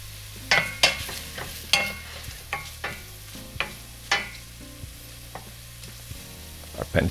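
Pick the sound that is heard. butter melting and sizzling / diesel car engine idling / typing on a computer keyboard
butter melting and sizzling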